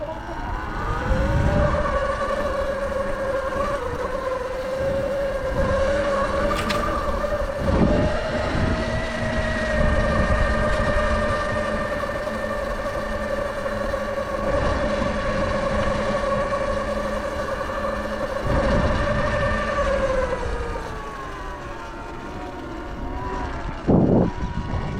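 A Sur Ron electric dirt bike is ridden outdoors, its motor giving a steady, loud whine that rises and falls as the rider switches between eco and sport modes, with wind noise throughout.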